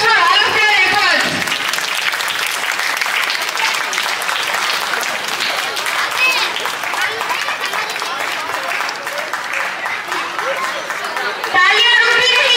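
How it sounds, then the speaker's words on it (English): Large crowd at a Sri Sita Rama wedding festival celebration gives long, sustained applause, with dense clapping mixed with cheers and chatter, briefly dipping near the start and swelling again at the end. "Can we have a huge round of applause for all of their efforts?"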